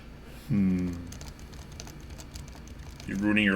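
Quiet, muffled key presses on a Realforce Topre keyboard fitted with Deskeys silencing rings, soft steady tapping running beneath two short bursts of speech.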